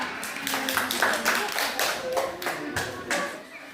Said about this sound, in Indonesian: berikan aplaus pada kelompok 2